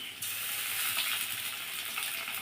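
A paste of ginger, garlic, onion, cumin and dried chili hits a hot pan with already fried onions and sizzles loudly and steadily up close, a bright continuous frying hiss, with no talking.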